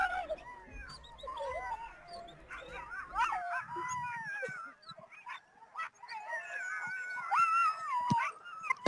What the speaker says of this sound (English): Looks like Tommy has a team of 2, 4, 6, 8, 10, 12, at least 16 dogs there